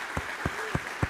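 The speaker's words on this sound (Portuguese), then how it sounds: "Vamos aplaudir o Espírito Santo." A church congregation claps during a worship service, four sharp separate claps spaced evenly about a quarter second apart, close and loud, with no talking.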